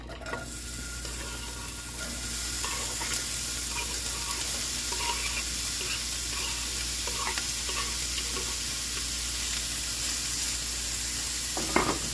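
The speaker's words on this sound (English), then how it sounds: "now I'm gonna saute the vegetables" Chopped vegetables and seasoning sauté in a pan for cabbage, a steady broadband sizzle with occasional soft stirring clicks, close and even throughout with no talking.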